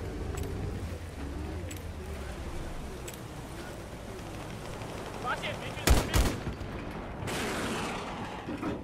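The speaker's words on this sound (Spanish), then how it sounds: "te están disparando de Charlie" Enemy gunfire in Battlefield 4 arrives as distant scattered shots, then a couple of loud close cracks just before the final few seconds, all under steady battle ambience while players talk.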